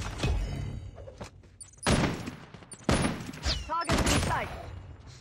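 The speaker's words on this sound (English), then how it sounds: "I love how like those first like two shots missed" Gunfire in a first-person shooter game: several loud, sharp shots in separate bursts, with one near the start, others around two and three seconds, and a final cluster, over faint background game noise.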